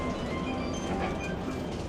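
A tram pulls in to a stop on a city street, its steady rumble and rail noise filling the scene with faint clicking and birds in the background, no voices.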